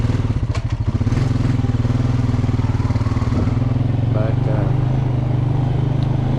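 An ATV engine idles and putters along slowly on a rugged mountain trail in the Hatfield-McCoy Trails, a steady low rumble with bumps and clatter throughout, close and continuous.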